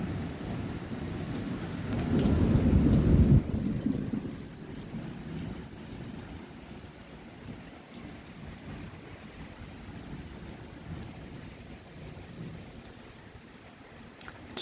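Thunder rolls in a loud swell early on, then steady rain keeps falling on surfaces through an afternoon thunderstorm, with no voices.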